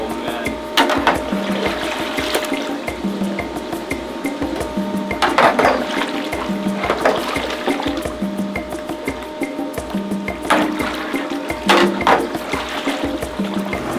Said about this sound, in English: That's a jacuzzi of bubbling pork.